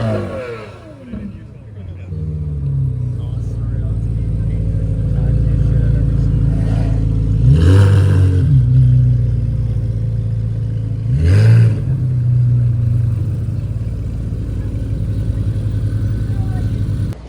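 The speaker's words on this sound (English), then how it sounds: "as that Aventador passed by" A Lamborghini Aventador S supercar revs loudly and passes close by on a Toronto street, with two sharp engine surges over a steady background roar and some talk mixed in.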